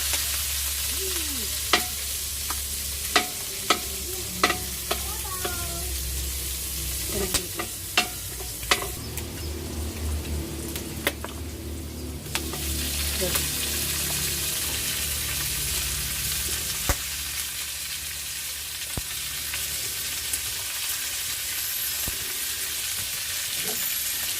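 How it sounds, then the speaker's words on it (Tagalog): Meat browns with garlic in a hot pan for an Ilocano-style bulanglang, giving a steady close sizzle and frying hiss throughout, with scattered sharp clicks and scrapes of stirring, mostly in the first half. "So hanggang sa mag-brownish yung karne natin, lagay na natin yung ricado"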